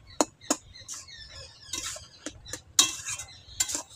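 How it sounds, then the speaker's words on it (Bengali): A utensil stirs cabbage in a pan, giving a series of sharp scraping clinks and scrapes at an uneven rhythm over a faint low sizzle, close and alone without talk. "এবারে এটা নেড়ে দেব খানিকক্ষণ"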